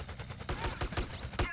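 Gunfire during a casino heist in GTA San Andreas: rapid, repeated sharp shots in quick bursts, fairly close and loud, with no talking.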